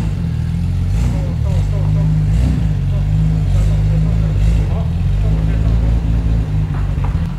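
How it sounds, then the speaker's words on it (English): A Nissan R34 GT-R idles through a Nismo exhaust in a car collection. Its close, steady, low rumble holds throughout, with a person talking faintly over it. "So you get to hear some Nismo R4 goodness through a Nismo Weldina exhaust."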